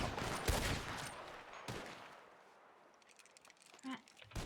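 Video game gunfire comes in rapid bursts of loud shots early on, then turns to sparser, fainter pops and distant-sounding fire, with a voice speaking between the shots.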